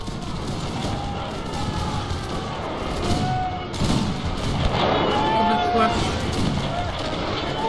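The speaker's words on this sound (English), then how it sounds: "Red corps are firing. Rank firing." Massed musket volleys crackle in the video game Napoleon: Total War as a line of infantry fires by rank, in dense, overlapping bursts under steady talking.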